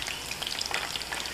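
Battered shrimp deep-frying in hot oil for a Chinese-style ketchup shrimp dish, a dense close crackling sizzle with rapid popping bubbles, steady and loud with no talk.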